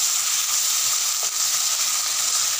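Finely chopped onion frying in a pan for a makhana masala curry, giving a steady, loud, close sizzling hiss with no break.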